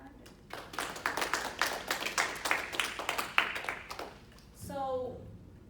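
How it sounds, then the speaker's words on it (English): An audience claps at a talk, the hand claps sharp and distinct in a loose rhythm that builds then fades, followed by a brief voice near the end. "give yourselves a round of applause because you've earned it"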